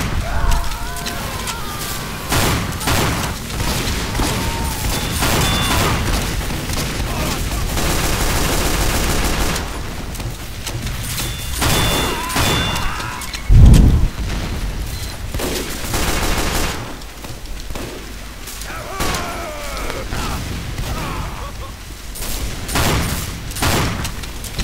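Gunfire from the video game Team Fortress 2: dense, continuous volleys of shots and bursts rattling through the whole stretch, with one heavier boom near the middle, loud and busy throughout.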